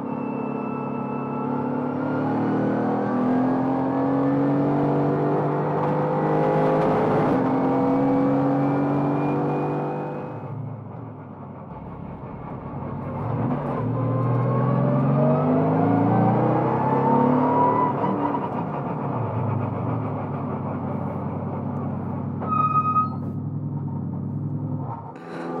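A Mercedes-AMG GT4 race car at the end of a lap on a circuit, heard from inside, with a steady engine drone rising and falling through gear changes and a dip under heavy braking.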